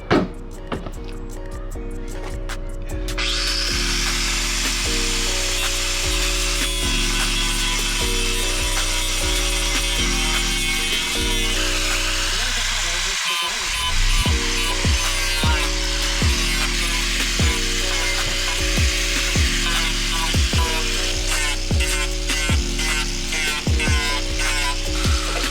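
A power grinder works down crash-damaged car bodywork, a loud continuous close grinding with stepped pitch shifts as the tool bears on the metal and one brief pause midway; no talk.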